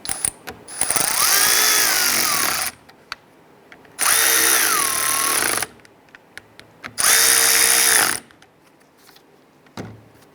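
On a 2005-2010 Chrysler 300, a ratchet tightens the bolts on a front power window regulator. Three loud, close bursts of whirring, clicking tool noise last about two seconds each, separated by short pauses, with no voices.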